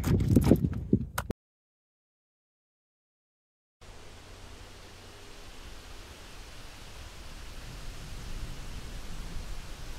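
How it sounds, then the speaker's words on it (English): Wind blows through Stok village near Leh as a soft, steady rushing that slowly grows louder. It follows a short burst of other sound and a moment of silence. "The only sound you can hear in Stok is the sound of the wind."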